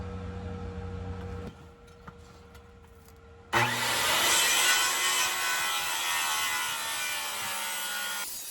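A power saw cuts a wood form board for concrete steps, starting abruptly partway through, then running as a loud, steady, whining cut.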